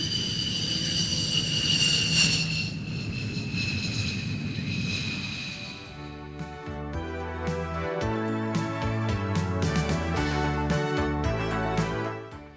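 Jet aircraft rolling down the runway after landing at RAF Fairford during the 1987 International Air Tattoo, air brake deployed; a loud, steady roar with whining high tones that gives way midway to a dense, shifting rumble of engine noise.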